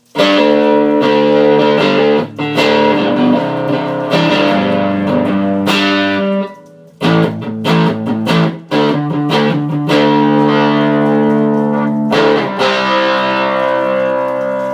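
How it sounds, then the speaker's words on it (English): Heavily distorted electric guitar with single-coil pickups through a cranked Silvertone 1481 tube amp, playing chords and riffs with thick overdrive, loud and continuous with brief pauses and sharp strums. "So as you can hear on this guitar, even with single coils, it's got actual distortion."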